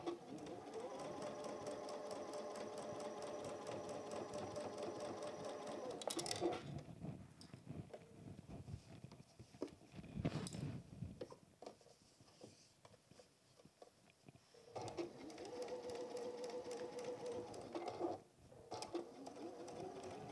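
A sewing machine stitching slowly around the beak of a fabric goose toy, with bursts of rapid, even mechanical chatter broken by pauses and small handling clicks, heard close and quiet.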